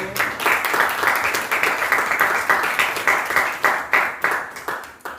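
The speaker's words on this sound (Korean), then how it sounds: "박수." An audience at a church baptism service in a military unit claps steadily in unison for several seconds, a rhythmic, fairly close applause with no talk.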